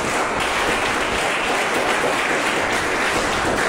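Steady, dense applause from a church congregation at a theology school session, loud and even throughout with no voices rising above it.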